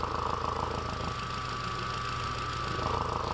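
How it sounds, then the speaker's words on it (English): A 1.8T car engine with a faulty secondary air injection combi valve stuck open idles steadily with a low, pulsing exhaust rumble, close and continuous, with no voices. "That's exhaust."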